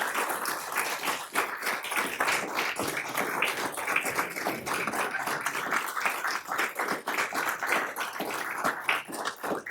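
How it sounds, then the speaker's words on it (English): A room full of people at a city council meeting applauds steadily for nearly ten seconds, a dense, sustained patter of many hands clapping at close range with no talk over it. "A round of applause."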